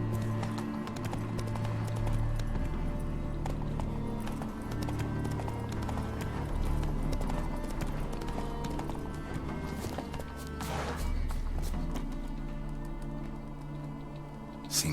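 Horse hooves gallop in The Witcher 3, a fast, close clip-clop rhythm that runs throughout over a steady game ambience, with a brief whinny partway through.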